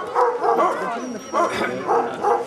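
Sled dogs at a Denali National Park kennel bark and whine in excited, repeated bursts, several yelps close together with a busy chorus behind them, while people can be heard talking nearby.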